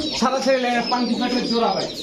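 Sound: pigeons cooing

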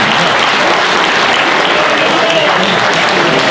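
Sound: applause

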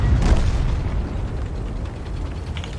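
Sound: explosive shell fired in World of Tanks video game

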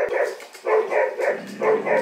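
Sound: dog bark imitation added in editing

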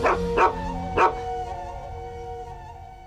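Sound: dog barking

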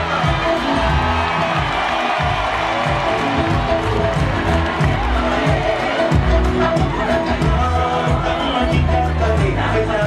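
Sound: audience applause

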